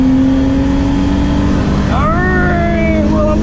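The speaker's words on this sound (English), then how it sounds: "that turbo truck is quick!" A turbo truck accelerates at a Street Car Takeover drag racing event. A loud, constant engine roar sounds close by, and a rising, whining engine pitch climbs sharply about two seconds in.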